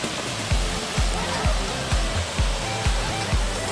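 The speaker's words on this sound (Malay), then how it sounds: "sampai juga air terjun" The Klimau waterfall roars as a constant broadband rush, with regular low thumps every half second or so running underneath.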